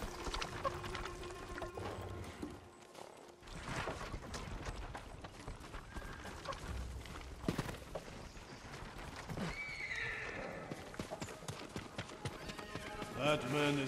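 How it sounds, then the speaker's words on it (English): Horses gallop with rapid hoofbeats and occasional whinnies in the Ghost of Tsushima video game, with speech over the thudding, moderately close clatter. "Follow those horses."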